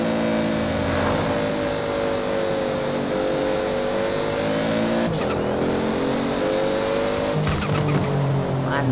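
A Toyota Supra race car in Forza Horizon holds a steady engine drone at light throttle, its pitch dipping and rising gently, with a shift-like break midway and a brief tire squeal near the end, continuous with no talk.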